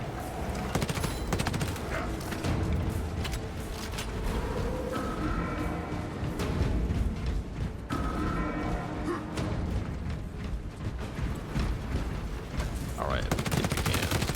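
Rapid bursts of gunfire from a 5-round burst weapon in the video game Space Marine 2, loud and dense with mechanical clatter and thuds throughout, layered with other in-game combat sounds.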